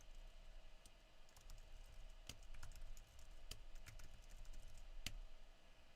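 Quiet, irregular keystrokes tap on a computer keyboard, with a few sharper clicks standing out over a low steady background hum.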